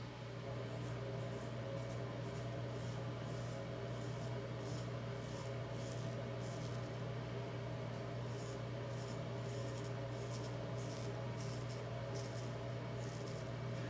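A George Butler Sheffield straight razor being honed with rolling X strokes on a stone, a steady continuous scraping rasp with faint rhythmic strokes throughout, fairly quiet and with no voices.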